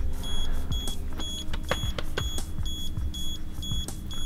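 A camera self-timer emits a regular series of short, high, clear beeps, roughly every half second, over steady outdoor background rumble, close and fairly loud.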